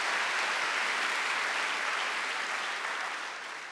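A church congregation at a Sunday worship service breaks into sustained applause, a dense wash of clapping that stays loud, then thins slightly toward the end.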